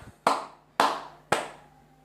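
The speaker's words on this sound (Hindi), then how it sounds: "ताली बजा रहा था यार" Three sharp, separate hand claps ring out at an even, unhurried pace, each loud and close with a short room decay, and nothing else is heard between them.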